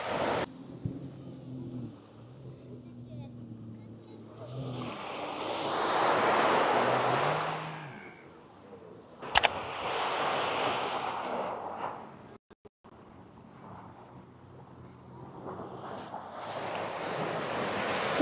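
Sea waves wash onto a Malaysian beach, a soft surge swelling to a broad rushing peak and then receding, with wind buffeting the microphone and a quieter wave building again near the end.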